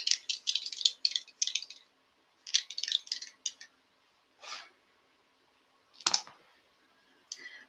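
Dice rolled and rattling, giving bursts of sharp clicks in quick clusters, then a few separate single clacks after short pauses, close and fairly crisp.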